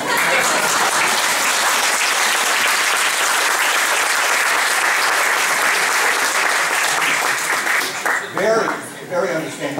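A conference audience gives sustained, dense applause for most of the clip, loud and even, then it thins out toward the end as a speaker begins to talk over it.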